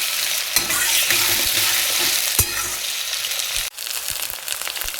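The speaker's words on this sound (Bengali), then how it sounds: "এবার এটাকে ভালো করে কষাবো, মানে ভাজবো, ভেজে মশলা দেবো" Small potato pieces fry loudly in oil with a cumin seed tempering, bay leaf and matar dal, giving a dense continuous sizzle with a few stirring scrapes and a short dip near the end.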